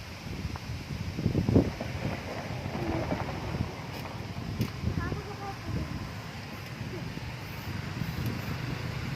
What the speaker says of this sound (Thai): ลมเริ่มแรงแล้วครับ